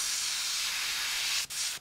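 An airbrush sprays out old paint in a steady, loud, close hiss that holds for about a second and a half, breaks briefly, then resumes and fades.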